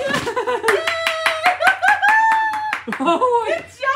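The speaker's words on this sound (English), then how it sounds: "Clap." A toddler girl claps her hands during Christmas present opening at home, a string of quick, close claps mixed with laughter and excited voices.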